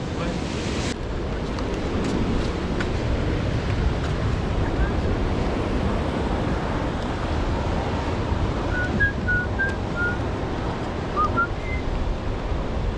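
Sea waves wash against a rocky shore in a steady, loud roar under microphone wind buffeting, with a few faint high whistling or bird-like chirps in the later part.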